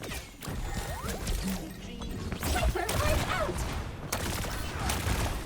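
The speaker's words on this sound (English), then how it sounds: "I'd rather just pressure with some suppressing fire here" Suppressing gunfire in an Overwatch match, a dense, chaotic stream of shots, impacts and game effects at steady loudness.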